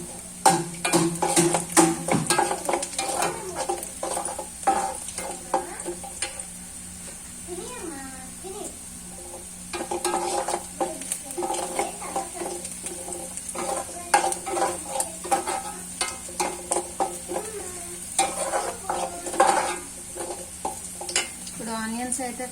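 Tomatoes sizzle in a pan after onions have been fried, and a utensil stirs and scrapes against the metal in a steady, close rhythm. Someone talks over the frying throughout.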